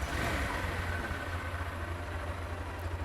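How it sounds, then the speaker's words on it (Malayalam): A Honda CB Hornet 160R motorcycle idles with a low, steady, even engine throb, continuous and fairly quiet, with no voices. "സോ ഇതാണ് ഇപ്പോൾ ഈ വണ്ടിയുടെ ഐഡിൽ സൗണ്ട്."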